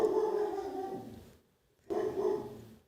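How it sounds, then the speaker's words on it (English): A pet dog barking indoors in two short bursts separated by a pause of silence, moderately loud and close by. "Are y'all able to hear my dog?"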